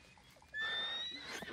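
A horse in the video game Red Dead Redemption 2 gives a single loud, close neigh lasting about a second, following a few soft background sounds.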